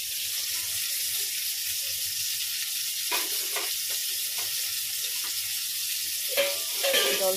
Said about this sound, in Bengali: জল ফুটছে।